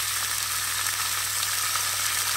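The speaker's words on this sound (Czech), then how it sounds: "budu to takhle opékat společně s tou cibulkou" Meat sizzles with chopped onion in a hot pan, a dense, steady, close frying hiss that runs unbroken from start to finish with no voices.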